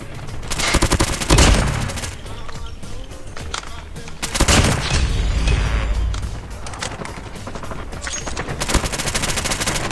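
Rapid bursts of AS VAL rifle fire in Call of Duty Mobile deathmatch, loud and dense, with heavier volleys around the start, middle and end over constant battle noise.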